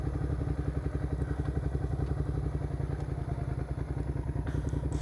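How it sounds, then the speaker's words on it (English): A motorcycle engine idling nearby, a steady rough putter with a fast, even pulse and a faint clatter, no talking over it. "as you can see, my engine's going"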